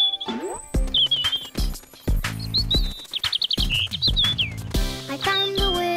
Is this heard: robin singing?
yes